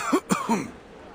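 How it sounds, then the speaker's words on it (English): Three short, harsh coughs in quick succession from a video game character, close and fairly loud, followed by a quiet pause; no talking. "you seem to have quite a severe cough"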